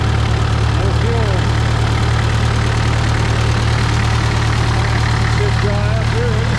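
A Farmall MD tractor engine idles with a steady, loud, low throbbing rumble while its carburetor is run dry of fuel, running evenly throughout with a voice talking over it.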